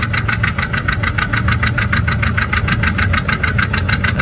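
An antique tractor engine pounds out a steady, rapid chug at a constant pace during a tractor pull, loud and continuous with a rough, knocking mechanical beat and no talking.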